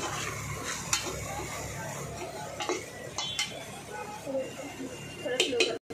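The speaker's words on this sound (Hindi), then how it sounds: "शिमला मिर्च को भी हमें अच्छे से भून लेना है।" Capsicum sizzles while being sautéed in a pan for fried rice, with a spoon scraping and clanking against the metal throughout, under a person talking.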